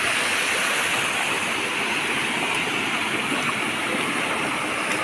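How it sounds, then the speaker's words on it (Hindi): A village waterfall in Assam, water pouring down over large rocks, roars as a loud, steady, continuous rush close by, with no voices. "वो बड़ा पत्थर से पूरा गिर के आता है पानी"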